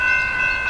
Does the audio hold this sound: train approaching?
yes